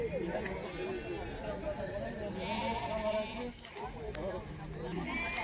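Arlas sheep at the Karabulak livestock market, a herd from Saryagash, bleat repeatedly and close by over a steady crowd din, with people talking in the background.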